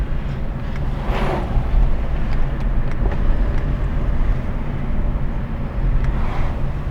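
Steady low rumble of a Peugeot 307 being driven, with a very soft clutch, heard from inside the cabin as continuous road and engine noise at moderate level with no talking.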